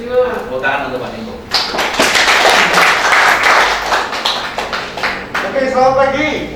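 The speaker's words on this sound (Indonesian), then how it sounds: "Tepuk tangan untuk Pak Niko." Burst of applause from a group at a Halal Bihalal gathering in Malang, rising in the middle and fading, with voices speaking before and after the clapping.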